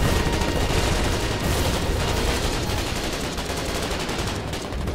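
Heavy wartime gunfire from the game Foxhole, a constant wash of distant and near rifle and machine-gun shots with booms blending into a thick, unbroken roar.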